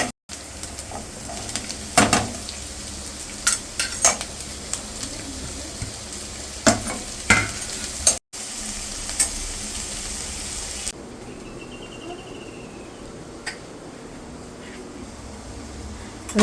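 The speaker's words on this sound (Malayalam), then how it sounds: "വെളുത്തുള്ളി, ഇഞ്ചി വഴണ്ട് വരുമ്പോൾ നമുക്ക് സവാള ഇടാം കേട്ടോ." Garlic and ginger sautéing in a pan, then onions added, with a steady loud sizzle broken by frequent spatula scrapes and clanks, the frying quieting in the later part.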